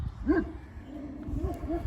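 An Anatolian crossbreed dog gives a short whimpering yip followed by softer whines, close and fairly quiet, over low background rumble.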